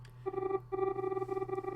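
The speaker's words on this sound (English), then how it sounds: "Ah, the phone." Electronic telephone ring from the Famicom Detective Club video game, a buzzy tonal trill in two short bursts over a low background hum.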